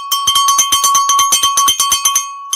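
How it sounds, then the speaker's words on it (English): A metal bell rung rapidly and loudly, about a dozen bright, evenly spaced strokes ringing close up, then falling quiet. "Michael, you want me to ring this damn bell again"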